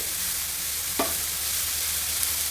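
Tempering sizzles in a pan with red chillies, Kashmiri chilli among them, frying for Hyderabadi street-style spot idli: a steady close hiss with one brief sharp crackle partway through, no talking.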